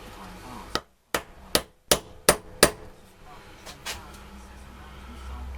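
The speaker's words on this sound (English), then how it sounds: "I'll just try and tap it inwards, just out of madness." Hammer tapping a part inwards, about six sharp, evenly spaced metallic knocks in quick succession, then two fainter taps, close and clear against quiet workshop background with some talking.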